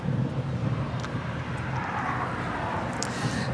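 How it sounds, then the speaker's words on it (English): An Airbus A321 jet on its departure roll at LAX gives a steady, broad roar of engine noise at moderate distance, filling the whole moment without a break. "A321 heading on down for a departure here on the south side"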